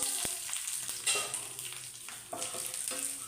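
Dried red chillies frying with popped mustard seeds, curry leaves and shallots in hot oil, a continuous close sizzle broken by spoon scrapes and brief clatters as the pan is stirred, with no voices.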